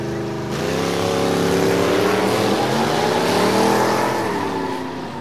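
Toy race cars driving on a sand track: a loud, close engine-like whine that rises and climbs in pitch as if accelerating, sustained for several seconds and then easing off, with no talking.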